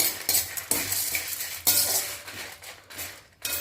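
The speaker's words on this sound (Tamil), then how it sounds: "இந்த பருப்பு சூட்லேயே வதட்டி வதக்குனிங்கன்னா காஞ்ச மிளகா கொஞ்சம் ஸ்டிஃப் ஆயிரும்" Lentils and dried red chilies dry-roast in a pan without oil, a close, fairly faint rattle of scraping and clinking stirring strokes with light rustling in between.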